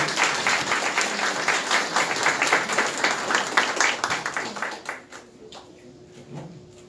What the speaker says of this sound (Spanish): Un aplauso, por favor, para Aula Cívica